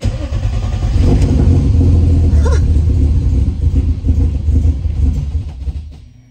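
Turbocharged BMW M50 engine in an E30 idling roughly, a loud close uneven rumble with lumpy, surging pulses and faint revving, fading slightly at the end.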